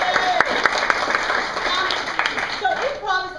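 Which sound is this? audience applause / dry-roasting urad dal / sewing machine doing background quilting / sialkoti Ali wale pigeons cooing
audience applause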